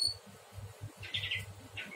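Prinia (prenjak) bird giving soft, fairly faint chirps in two short high bursts, with a low rhythmic handling rumble running underneath and no talk.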